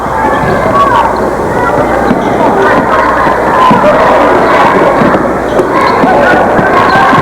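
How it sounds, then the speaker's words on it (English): A crowd at a 2000 high school basketball game between Hazleton and Shamokin applauds and cheers in a steady, dense roar throughout, with an announcer talking over it. "Paul Schock will sit down, get a nice hand from the crowd as he sits down"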